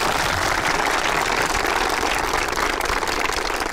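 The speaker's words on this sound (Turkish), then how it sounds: "Alkışlıyoruz efeleri." Sustained applause from an audience cheering zeybek folk dancers in Söke, a steady dense wash of clapping that stays loud and even from start to finish.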